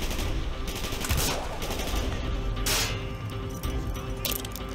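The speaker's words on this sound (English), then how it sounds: "Gunfire's drawing attention." Gunfire in Call of Duty: Black Ops, a dense run of rifle and machine-gun shots with sharp cracks over steady battle noise, loud and continuous without speech.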